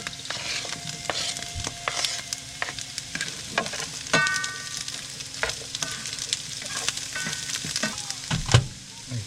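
Vegetables sizzle in a pan during RV cooking for a chicken burrito, with a continuous hiss broken by clattering scrapes and taps from stirring. The sounds are close and there is no voice.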